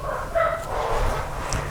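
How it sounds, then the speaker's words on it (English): A dog barks indoors, a couple of short woofs and yips heard at moderate distance over a steady low room hum. "The dog is barking because I believe Melanie just got home."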